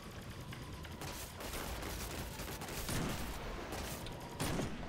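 Gunfire in the shooter game Destiny 2 during a sniper-rifle quickscope: a steady bed of game noise punctuated by sharp shot-like bursts around the middle and end, fairly loud and close, with no speech.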